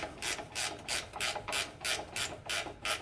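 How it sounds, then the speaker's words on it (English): Gear wrench ratcheting on a nut of a Husqvarna mower during drive belt replacement: a quick, regular series of about nine dry clicking bursts, close and fairly quiet, with no talking. "If you don't have any gear wrenches, you might want to invest in some. Great for these little tight spots."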